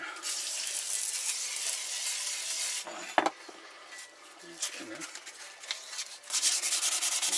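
Hand rubbing and polishing of Suzuki Bandit 1200 motorcycle rear sets, a rough scrubbing friction sound in sustained strokes, pausing midway with a sharp knock and small clinks before the rubbing resumes.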